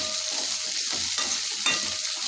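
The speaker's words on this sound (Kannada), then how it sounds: "ಸ್ವಲ್ಪ ಚೆನ್ನಾಗಿ ಫ್ರೈ ಮಾಡಬೇಕಿದೆ ಬಣ್ಣ ಬರಬೇಕಿದೆ ಈರುಳ್ಳಿ" Thickly chopped onions stir-fried in a pan for egg masala sizzle loudly and steadily, with rhythmic scraping strokes of a spatula repeating every fraction of a second, close and clear with no talking.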